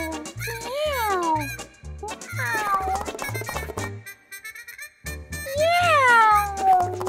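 Several loud, close cat meows rise and fall in pitch, coming in bursts over a background of bouncy music.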